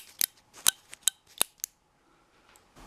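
A vintage 1977 R2-D2 Star Wars action figure gives a series of sharp, dry plastic clicks, about six in an uneven rhythm, close and fairly loud, then quiet.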